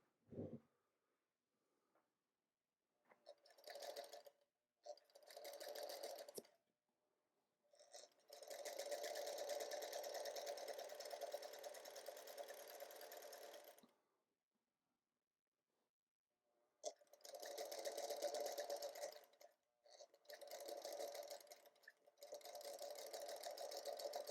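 A sewing machine stitching quilt patches for a disappearing four-patch block, running in several bursts of steady mechanical whirring and clatter with quiet pauses between, close and clear.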